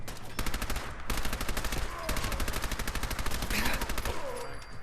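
Rapid automatic gunfire in the video game Fallout 4, a dense burst of evenly spaced loud shots rattling on for several seconds, then a brief pause and more firing.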